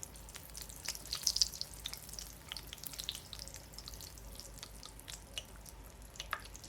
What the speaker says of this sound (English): I'm gonna do my little donut holes first to see if the oil is hot enough